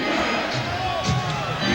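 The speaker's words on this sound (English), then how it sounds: "Chant of defense from the crowd here in Chicago." Basketball crowd in a Chicago arena during the 1997 Bulls versus Heat Eastern Conference Finals game, a steady roar with rhythmic chanting of defense swelling throughout under a commentator's voice.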